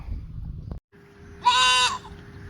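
A goat on a farm gives a single nasal, wavering bleat lasting about half a second, heard fairly close over low ambient background rumble.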